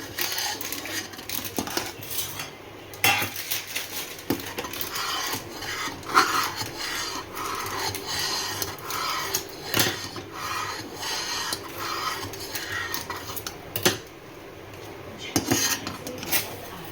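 Rice stirred in a cooking pot with ghee, a continuous scraping and rubbing of utensil against metal with occasional sharper knocks, steady and close in a busy kitchen.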